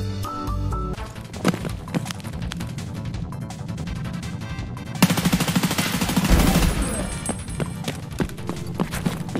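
Gunfire in the shooter game Escape From Tarkov: irregular sharp single shots and rapid bursts, loud and close, with a denser volley midway and brief talk underneath.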